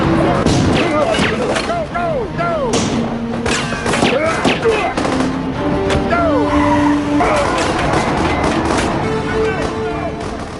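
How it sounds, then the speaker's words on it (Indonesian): A stolen car in an action film speeds off with repeated tire squeals and skids over a loud, dense engine roar and scene noise, while a voice narrates over it. "Owen segera mencuri mobil lalu membawa Mayor Harding dan pasukan pergi dari sana"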